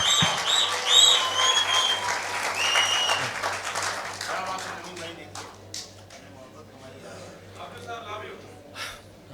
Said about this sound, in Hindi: आपकी तालियां सब कुछ बोल रही है